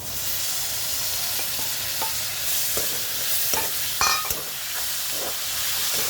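Tomatoes frying in a pan for an easy pasta dish, a steady broadband sizzle and hiss running throughout with a few stirring scrapes and clinks near the middle, close and fairly loud.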